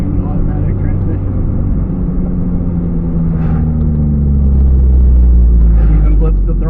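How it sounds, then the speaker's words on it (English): Automatic Mazda Miata engine revving through a gear change with a throttle blip, a mid-pitched engine note that climbs and swells louder toward the end, with a voice talking over it. "It even blips the throttle when you change gear"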